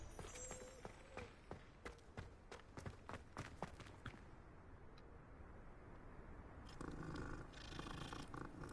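A cat purrs in the video game Hogwarts Legacy, a steady low rumble mixed with scattered footsteps and game sounds, with no talk over it.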